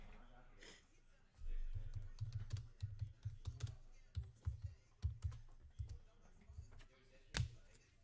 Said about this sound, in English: Ooh, it's a lot of typing.